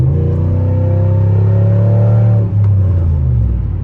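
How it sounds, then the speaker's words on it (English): A straight-piped Pontiac Bonneville GXP during normal driving with the windows shut, its exhaust a loud, deep, steady drone heard from inside the car, briefly dipping in pitch before it settles back into its rumble. "This is kind of what the car sounds like normal driving, windows shut."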